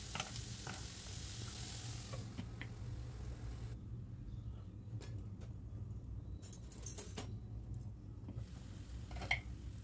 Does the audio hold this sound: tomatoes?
yes